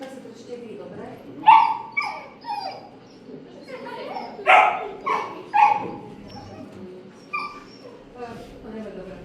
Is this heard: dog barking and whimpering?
yes